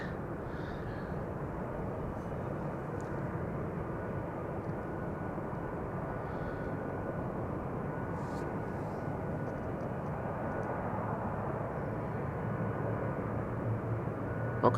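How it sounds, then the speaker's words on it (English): A Finnair Airbus A350 passes overhead at Amsterdam Schiphol Airport, a steady broadband jet roar holding at even loudness throughout with no voices. "I am hearing a Finnair A350 passing overhead."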